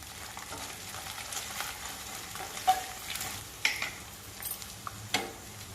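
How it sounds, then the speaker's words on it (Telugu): Onions, green chilies and ginger garlic paste frying in a pan, a soft steady sizzle broken by a few brief clinks and scrapes of stirring, quiet and close without speech. "పచ్చిమిరపకాయలు ఉల్లిపాయ ముక్కలు అల్లం వెల్లుల్లి పేస్ట్ మొత్తం ఈ విధంగా ఎర్రగా వేగిపోయిన తర్వాత దీనిలో కొంచెం పసుపు వేసుకుందాం"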